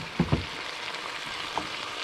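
Pork giniling with green capsicum squares fries in a pan with a soft, close sizzle. Two quick stirring knocks sound near the start and another one comes later, with no talking.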